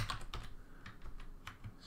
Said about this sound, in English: So I'll call this Dick Tracy. Oops. I can't spell or type.